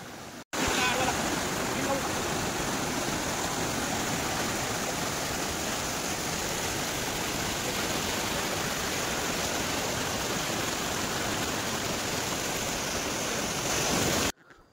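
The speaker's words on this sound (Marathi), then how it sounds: "खळखळणारे, जुळजुळणारे पाणी" Sautada waterfall in Beed district, Maharashtra, rushes and gurgles in a continuous, loud, dense roar of falling water that holds steady throughout, with no pauses.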